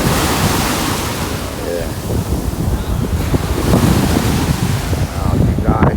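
Ocean surf rolls steadily onto Miami's North Beach while gusts of wind buffet the microphone, a continuous loud wash with swelling breaks; a brief voice speaks once.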